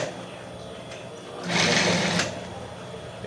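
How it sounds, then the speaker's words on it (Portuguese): Sewing machine stitching fabric pieces for a round buttoned cushion with a 1 cm seam allowance, a steady mechanical whir that grows louder in a short burst mid-clip before easing back. "E eu vou costurando aos poucos aqui, ó. Estou costurando com 1 centímetro."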